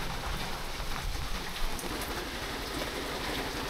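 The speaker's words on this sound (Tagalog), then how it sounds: "Medyo malakas pa rin talaga yung ulan." Heavy rain falling outdoors, a dense, steady hiss of drops hitting surfaces, constant and fairly close with faint low rumbles underneath and no voices.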